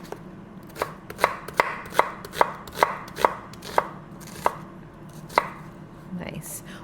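A knife slices bitter gourd thinly on a cutting board, about a dozen crisp, close chops in a loose, unhurried rhythm, each one a sharp tap against the board, with no talking.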